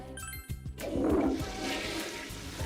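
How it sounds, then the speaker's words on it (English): Toilet flush from the men's bathroom in the video game Persona 4 Golden, a short click followed by a rushing, swirling water roar that holds steady to the end, with no talking. "Flush noise."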